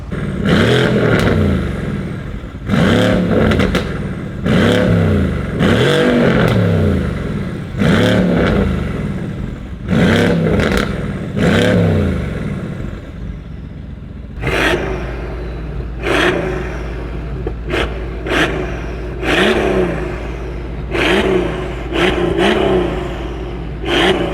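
Mercedes AMG V12 and V8 bi-turbo engines blip repeatedly in loud, rhythmic revs, each rising and falling sharply, with the second engine settling into a deeper steady idle between its quicker throttle stabs.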